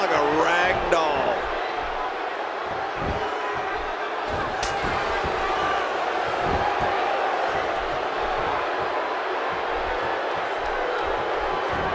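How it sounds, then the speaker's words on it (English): Arena crowd in the WWE 2K16 wrestling video game, a steady dense roar of cheering that fills the whole stretch, with a few thuds and slams from the ring underneath. "by the sound of this crowd, I think they're getting what they wanted"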